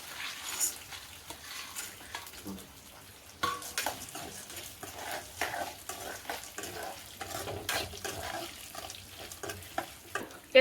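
Garlic, green chilli, ginger and peanuts sautéing in a pan for groundnut chutney: a low sizzle beneath frequent clicks and scrapes of a stirring spoon against metal, irregular and close, with no one speaking.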